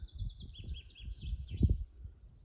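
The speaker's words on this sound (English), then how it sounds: "all the birds calling" Spring birds call outdoors on the High Coast, a quick run of thin, high chirps and twitters that sound fairly faint and distant over soft low rumble.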